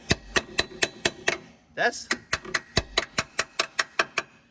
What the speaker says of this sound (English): If you can tell, see, chipping hammer.